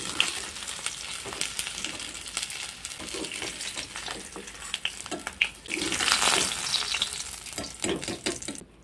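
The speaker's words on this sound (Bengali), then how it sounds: "এখানে মাছের মাথাগুলো লাল লাল করে ভেজে নিয়েছি।" Fish heads fry in hot mustard oil in a wok with a dense, continuous sizzle and crackle, up close, punctuated by clinks and scrapes of a utensil turning them, swelling louder toward the end.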